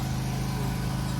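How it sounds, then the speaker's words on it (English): Generator running beside a parked car at the roadside on a rainy day, a steady, loud low engine drone with a pulsing mechanical rhythm. "We got the generator running."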